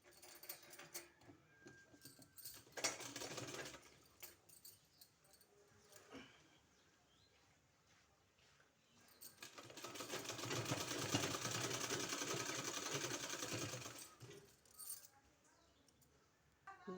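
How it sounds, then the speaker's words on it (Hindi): A sewing machine stitches a sleeve seam in quiet bursts of rapid mechanical clatter, a short run early and a longer steady run in the middle, separated by faint handling noises. "उसी में हमको फिर सिलाई करना है"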